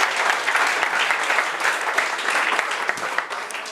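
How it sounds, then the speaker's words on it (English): An audience at a software testing lightning-talk event gives a round of applause, steady dense clapping throughout, close and loud with no break. "Round of applause"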